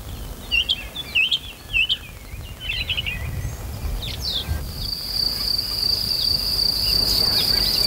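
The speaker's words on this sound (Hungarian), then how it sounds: "Itt egy kis énekes rigó köszönti a tavaszt." A small song thrush sings in spring on a hillside among vineyards in the Tokaj-Bodrogzug, its short repeated phrases clear at first, while crickets keep up a steady high chirring that grows more prominent toward the end.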